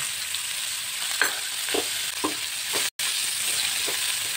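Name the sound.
chopped onions frying in a pan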